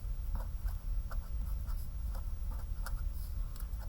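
A pen scratches and taps across paper while notes are written down, quiet and close, in short irregular strokes.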